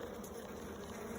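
Honeybees hum steadily at an open, strong hive, a dense continuous buzzing that stays close and even with no talk over it.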